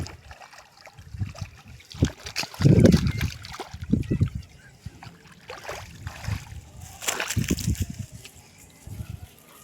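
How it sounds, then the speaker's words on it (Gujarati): Irrigation water runs through furrows in a pea field, giving a steady low gurgle and trickle with a few louder splashing surges, heard close up outdoors with no voices. "હમણાં એક જ ધારું બધાયમાં પાણી હાલે"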